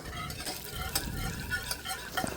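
Butter browning in a pan gives a soft, steady sizzle with a fine crackle of foamy bubbles, heard close and alone, with faint stirring.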